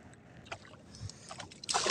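A small boat on open water drifts with its engine stopped while a paddle dips and splashes a few times, faint water swishes ending in a louder splash.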